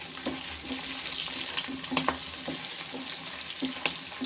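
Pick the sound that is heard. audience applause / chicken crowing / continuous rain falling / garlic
garlic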